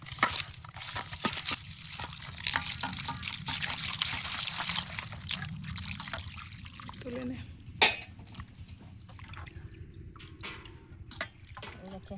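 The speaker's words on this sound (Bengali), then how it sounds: "এখন ধুয়ে নেব ধুয়ে নিয়ে আসছি পরিষ্কার করে নিয়ে আসছি" Cut fish being washed by hand in water at a riverside village cooking spot, with splashing, trickling and dripping sounds alongside a few clinks, mostly steady and close, while a person talks over it.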